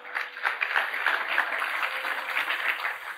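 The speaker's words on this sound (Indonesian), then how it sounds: "Tepuk tangan buat Tuhan." A church congregation applauds during a sermon, a brief spell of steady, moderately loud clapping that carries on evenly for a few seconds with no talking over it.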